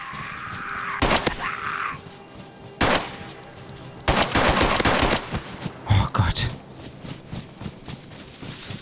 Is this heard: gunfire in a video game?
yes